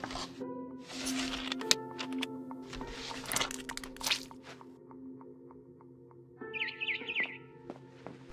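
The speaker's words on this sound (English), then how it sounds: "Then I heard chirping outside my window." Bright barn swallow chirps and tweets in a video game come in short bursts with brief pauses, over quiet crunchy and dripping background noises.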